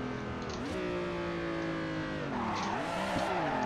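A BMW E30 drift-spec car in Assetto Corsa squeals its tires on a handbrake entry, with a rising, wavering screech over the steady drone of the engine, close and loud.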